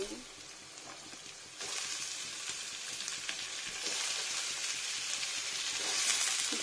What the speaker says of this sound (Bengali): আর এগুলো হচ্ছে আলু এরকম করে কাটা আলুটা দিয়ে নেব